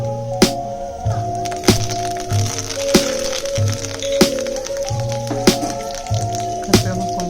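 Curry leaves are dropped into hot frying oil for an aloo palya and set off a steady sizzle. Sharp crackles and pops burst out roughly every second over a constant hum.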